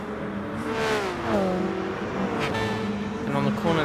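A race car engine in Gran Turismo Sport, driven in an online race with traction control off, revs and shifts in rising and falling sweeps while a person talks over it throughout.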